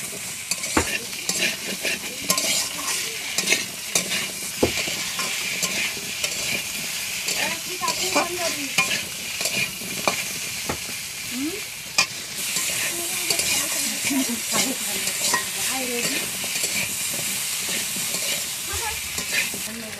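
Taro pieces stir-frying with turmeric and salt in a pan: a constant hissing sizzle runs throughout, broken by repeated scraping strokes of a spatula, close and fairly loud, with no talk.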